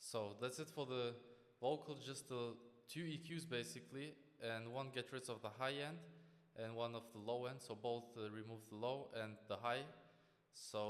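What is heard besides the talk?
No distinct noise like a dog, phone or traffic.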